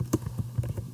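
Short burst of computer keyboard typing at close range, with several quick, uneven key taps in under a second and no voices.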